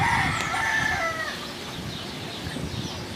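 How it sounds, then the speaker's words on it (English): Chickens cluck close by and a rooster crows near the start, outdoors near the El Yunque rainforest in Puerto Rico, with the calls fading to softer clucking and background noise. "It's chickens right over there."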